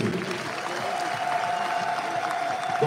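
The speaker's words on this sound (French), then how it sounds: "sous vos applaudissements, bien entendu." Audience applause at a national ballet performance during a diaspora gathering in Belgium, a steady moderate wash of clapping with a faint sustained tone running beneath it for a few seconds.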